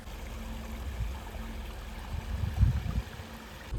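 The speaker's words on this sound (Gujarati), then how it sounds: "ડુંગર ઉપરથી નાના નાના ઝરણા હોય છે" Small streams run down a hillside beside the overflowing Shetrunji Dam near Palitana, giving a steady, soft wash of flowing water with a low rumble and a few slightly louder surges, with no voices.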